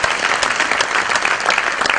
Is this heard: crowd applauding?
yes